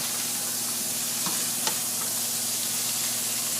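Onions being stirred around in a hot frying pan for smothered chicken livers, giving a steady, close sizzle with a few soft scraping stirs and no talking.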